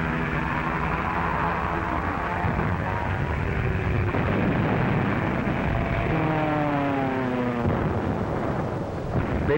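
Propeller-driven WWII dive bombers roar in a continuous loud drone with rising and falling engine tones, mixed with rumbling blasts from an attack on Dutch positions in 1940.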